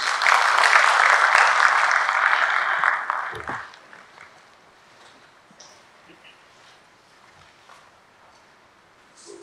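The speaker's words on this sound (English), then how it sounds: "Big round of applause, please." Loud applause from an audience at a World Heart Day hospital event fills the first few seconds, then cuts off sharply, leaving a quiet room with faint scattered noises.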